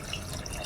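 Water pours into a pot for chicken vegetable soup, a brief, even splashing rush heard close up with no talking.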